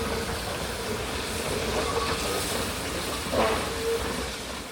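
Apps No. 3 train pulling away toward Coles Beach on the Don River Railway in Tasmania, a steady broadband rumble with hissing, even in loudness and heard without talk.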